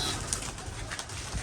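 A pigeon coos softly amid faint outdoor background noise, a brief low call near the end over a quiet steady hiss.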